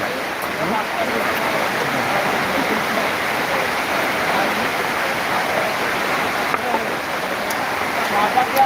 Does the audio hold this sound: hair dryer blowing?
no